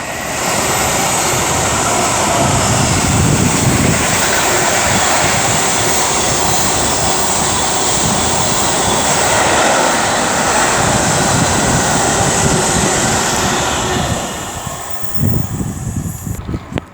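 A DB Cargo UK Class 66 diesel freight locomotive roars past at Tamworth, its loud, sustained engine rumble and wagon clatter close and steady for most of the pass, then easing as the train fades.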